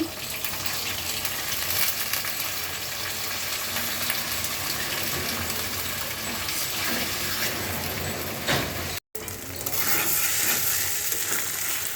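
Ginger and garlic paste frying in a pan with ground rice, a steady broadband sizzle running close and continuous, with a brief cut near the end before the sizzling resumes.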